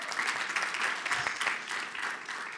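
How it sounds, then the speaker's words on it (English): An audience at a televised school debate final breaks into applause, a steady wash of clapping at moderate volume for a few seconds with no speech. "A round of applause."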